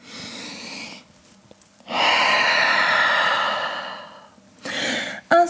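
Deep, audible breaths are drawn and released while holding downward dog during a vinyasa yoga flow: a soft opening exhale, then a long, full breath after a pause and a shorter one near the end, close to the listener.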